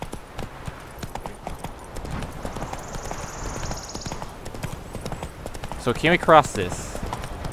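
The horse Roach trots in The Witcher 3 video game, its hooves clip-clopping in a steady quick rhythm while a player talks over the game sound.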